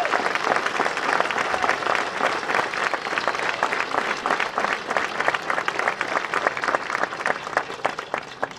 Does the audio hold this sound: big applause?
yes